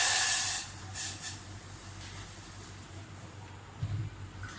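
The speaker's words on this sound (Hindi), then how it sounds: "2 कप पानी के डालूंगी।" Two cups of water poured into a hot pan while making Irani dum chai, a loud hissing burst of steam at first that quickly fades into softer sizzling and a low background hum.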